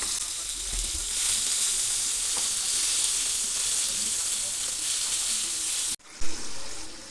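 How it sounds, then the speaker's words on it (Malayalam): Chicken popcorn deep-frying in oil over a medium flame makes a loud, steady, dense sizzle that fills the clip, then cuts briefly near the end with a soft clunk before the bubbling resumes. "ഇനി ഇത് മീഡിയം തീയിലിട്ട് നമുക്ക് നന്നായി ഫ്രൈ ചെയ്തെടുക്കാം."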